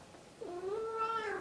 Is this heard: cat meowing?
yes